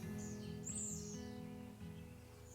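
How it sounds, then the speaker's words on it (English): Small birds calling around a backyard grill where they are starting to nest, a few faint, high chirps over a quiet low hum in a garden. "there's a bunch of birds going crazy, and they are nesting or starting to nest in my neighbor's grill"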